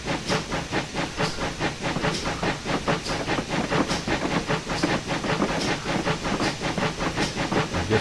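Steam train running with a hissing steam valve, giving a steady, loud stream of hiss broken by rapid rhythmic chuffing pulses throughout, with no voices.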